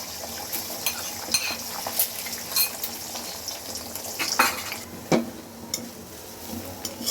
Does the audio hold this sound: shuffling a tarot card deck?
no